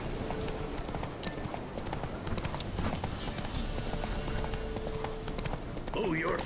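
Horse galloping in The Witcher 3 video game, a quick rhythmic clip-clop of hooves running steadily throughout, moderately loud, with voices speaking over it.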